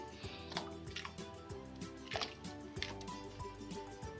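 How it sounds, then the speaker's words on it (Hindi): Beef goes into about two litres of water in a kadai (wok), making soft wet plops and squishy splashes at irregular intervals, close and fairly quiet. "पानी ऐड करके इसमें मैं बीफ ऐड करूँगी।"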